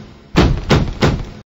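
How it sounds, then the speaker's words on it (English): Three loud, evenly spaced knocks strike a door in a cartoon, each a heavy thump close by, with silence before and after. "Can you open the door and see who's knocking?"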